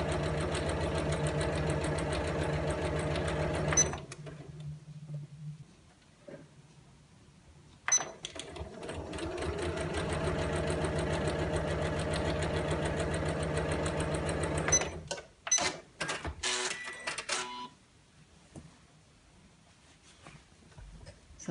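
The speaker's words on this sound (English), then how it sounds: "So I've sewn the handles onto both pieces" A sewing machine stitching tote bag handles in bursts: a steady mechanical whir for several seconds, a pause, a longer run, then short stop-start bursts before quieting.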